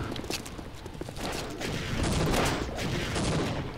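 A rocket launcher firing in the Half-Life mod Sven Co-op, heard as a dense, continuous roar of gunfire-like blasts and rumbling explosions that builds slightly louder toward the middle.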